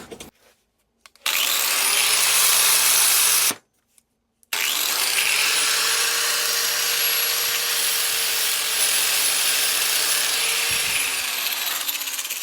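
A power tool cuts through a welded crank part from a 1946 Ford Super Deluxe flathead V8, a loud steady grinding whine in two bursts separated by a brief pause, running close and alone.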